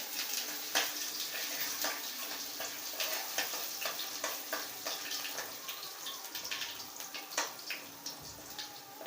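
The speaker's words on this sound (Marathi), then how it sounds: "मोहरी तडतड उडली का याच्यामध्ये ठेसलेला लसूण टाकायचं" Crushed garlic sizzling in hot oil with popping mustard seeds, a steady frying hiss with frequent sharp crackles and spits, close and loud with no talk.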